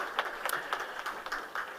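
An audience applauds a departing minister at a certificate distribution ceremony: scattered, fairly faint clapping from a modest crowd, heard at a slight distance.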